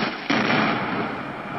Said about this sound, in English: Our GoPro camera caught the explosion up close.